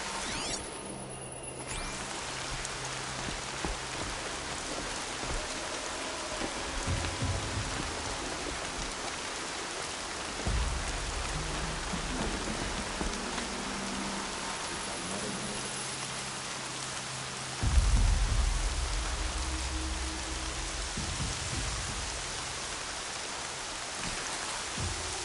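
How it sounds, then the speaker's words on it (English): Steady rain falls in the video game Horizon Zero Dawn, a continuous hiss of drops on the ground lasting throughout, with occasional low thuds and shifts beneath it and no talking. "More rain."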